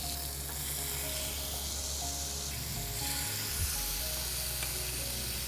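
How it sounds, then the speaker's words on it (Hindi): Paneer tikka sizzling and frying on a very hot tawa, a steady, close, continuous hiss with soft crackle throughout, no voices. "सिजलिंग जो साउंड है वो इम्पॉर्टेंट है।"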